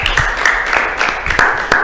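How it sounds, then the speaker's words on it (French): A church congregation bursts into applause and acclamation during a sermon, a dense, steady wash of clapping with scattered sharper claps, close and sustained for under two seconds. "Là, ça mérite des acclamations."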